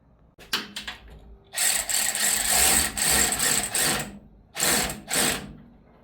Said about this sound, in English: I just got to tighten up this top radiator hose